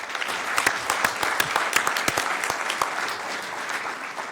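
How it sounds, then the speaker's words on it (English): An audience at a Sacramento City Council meeting gives a round of applause for youth coaches and families, a steady wash of many hands clapping at moderate loudness throughout, with no voices standing out. "let's give them a round of applause, if you will."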